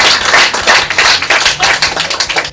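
A crowd at a comedy show claps, a dense burst of many hands clapping close and loud, pulsing unevenly without voices.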